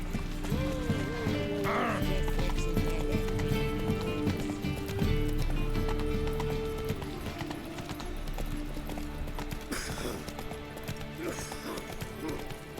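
Horse hooves clip-clopping at a run in the open-world video game The Witcher 3: Wild Hunt, a steady rhythmic beat laid under game music and ambient sound, with a faint whinny and brief voices.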